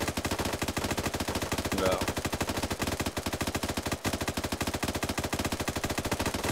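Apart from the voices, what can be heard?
gunfire in video game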